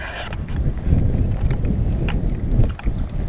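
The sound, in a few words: strong wind on a lake during solo canoe trip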